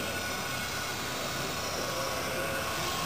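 Remote-controlled model helicopter flying at a radio-control model fly-in at the Rose Bowl, a steady, continuous whining engine and rotor drone with no breaks.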